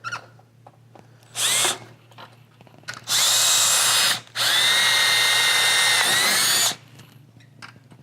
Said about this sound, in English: So I'll drill one here at the top.